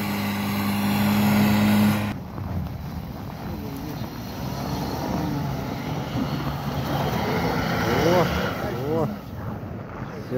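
An off-road SUV working through rough ground, its engine roaring under heavy throttle, loud and close with wind buffeting and voices talking over it.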